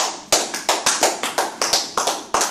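Congregation in a church clapping in unison to acclaim Jesus: loud, sharp claps about every fifth of a second in a steady rhythm.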